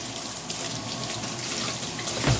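A kitchen tap runs steadily into a sink while vegetables are washed under it, a close, continuous splashing gush with no talk.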